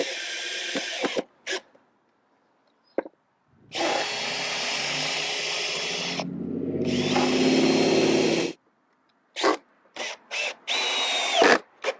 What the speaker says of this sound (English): Now all that I do here is drill down through